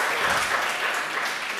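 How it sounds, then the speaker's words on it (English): Audience applause at a talk on truth and the internet, a steady, dense wash of many hands clapping close by throughout, with no voices over it. "That's the first round of applause I've ever had in my lifetime."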